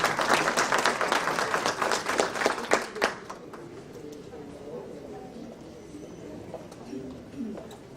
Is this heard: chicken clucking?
no